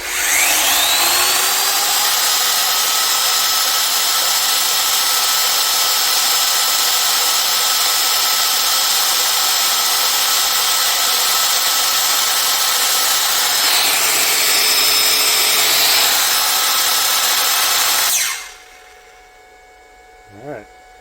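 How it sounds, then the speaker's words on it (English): An old Makita circular saw runs on a portable power station and cuts through wood, a loud steady whine lasting nearly twenty seconds before it abruptly winds down to near quiet. "This circular saw I use often enough, and it's still going, the old Makita"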